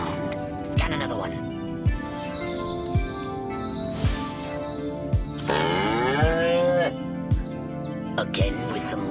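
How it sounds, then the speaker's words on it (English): Cows moo in the Destroy All Humans remake video game on a farm level, long low calls rising and bending over a steady game soundtrack with periodic thumps and a speaking voice. "Again with the moo."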